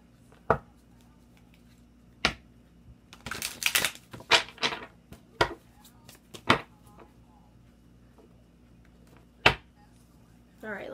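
Tarot cards being shuffled by hand: a series of sharp, crisp riffling snaps and brief papery flurries, some isolated and some bunched together, close to the microphone over a faint steady hum, with no talking.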